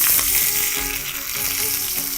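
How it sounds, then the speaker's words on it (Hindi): Steady, loud sizzling of mustard seeds and cumin frying in hot oil for a tempering, a continuous crackling hiss close up with no talking. "ये है हमारा तड़का, राई, जीरा।"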